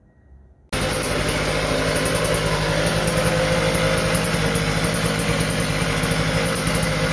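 A Puch Maxi moped engine starts up after a brief quiet moment and settles into a steady, buzzy two-stroke idle, close and constant for the rest of the clip with no talking.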